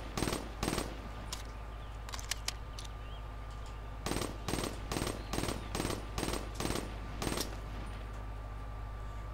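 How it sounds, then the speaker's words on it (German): Gunfire in the Black Ops 3 video game as a magazine is emptied: a quick burst, then a run of about a dozen evenly spaced loud shots that fire steadily over a constant background hum, with no talking. "Jetzt schießen wir das Ganze nochmal leer"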